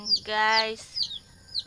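Chickens and chicks clucking while being fed in a backyard during a morning routine, short bright calls close by, while someone speaks softly over them.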